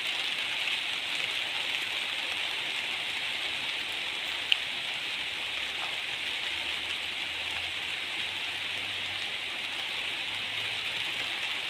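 Heavy rain pours down steadily in a dense, hissing wash, constant and unbroken, with a faint low rumble underneath.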